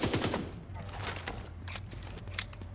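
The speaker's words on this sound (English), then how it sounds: "Big numbers coming out of that SMG." Rapid SMG gunfire in a video game, quick bursts of close, sharp shots crackling over a low game backdrop.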